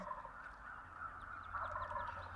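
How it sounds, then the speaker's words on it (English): Wild turkeys gobble somewhere behind a hunting spot in the early morning, a steady distant chorus of fowl calls layered over continuous outdoor background noise, with no talking. "there were turkeys gobbling, like they're all the time behind us."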